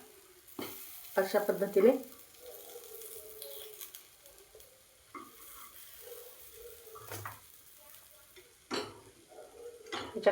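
Banana and wheat-flour appe sizzle in an appe pan as they are flipped, with soft frying hiss, scattered clicks of a utensil against the pan, and a quiet voice speaking briefly.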